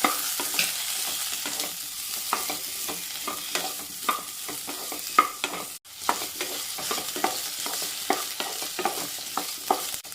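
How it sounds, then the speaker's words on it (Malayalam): Potato pieces for aloo gobi sizzle in a pan, with a constant frying hiss and repeated sharp scrapes and clatters of a spatula stirring them, and no talking. "ഇതേ പാനിലേക്ക് തന്നെ നമ്മളുടെ പൊട്ടറ്റോ പീസസ് ഇട്ട് കൊടുക്കാം. ഇതും അതുപോലെ തന്നെ ഒന്ന് വഴറ്റിയെടുക്കണം."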